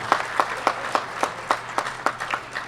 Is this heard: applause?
yes